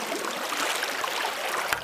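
Fast-flowing river water rushing over a shallow trout stream, a steady broadband wash with faint gurgling, close and continuous, no voices.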